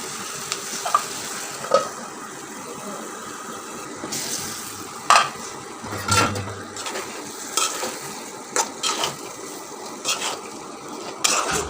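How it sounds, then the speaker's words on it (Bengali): Taro stolons being stirred and fried in a pan, a steady sizzle with irregular scraping knocks of the spatula against the pan, close and moderately loud, no talking. "দেখেন এটা কিন্তু আরও কিছুক্ষণ আমি নেড়ে নেব, কারণ এটা একদম ভাজা ভাজা হবে।"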